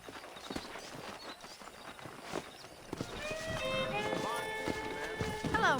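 Hooves beat in a rapid clip-clop as horses gallop through the Red Dead Redemption video game, with someone talking over them and music swelling in the background.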